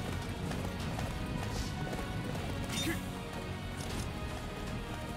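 Horse hooves clip-clop at a steady running gait in the video game Attack on Titan Wings of Freedom, a continuous busy rhythm layered with game effects and background music.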